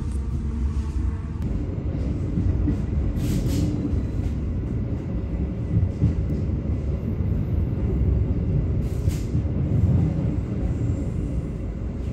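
Train rumbling at Kertosono station on a journey aboard the KA Matarmaja, a continuous deep rolling drone with a faint screech around the middle.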